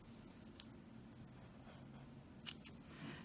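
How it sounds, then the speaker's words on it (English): Scissors snip excess yarn strands on a handmade prayer bear, a couple of faint, crisp cuts alone in a quiet room. "now I can cut this excess off"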